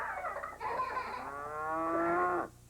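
Cattle mooing nearby, a long, loud, drawn-out low bellow after a shorter call, set against a steady low background hum.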